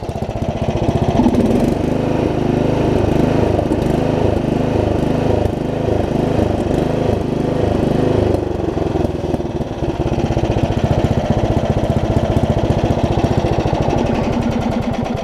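A Craftsman Murray rear-engine riding mower idles close by, a steady, loud, chugging single-cylinder putter that runs evenly throughout with no speech.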